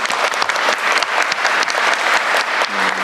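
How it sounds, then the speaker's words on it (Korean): Applause from a seated audience at a government meeting: sustained, dense clapping for about three seconds, fairly close, fading slightly at the end. "박수도 한번 하시죠."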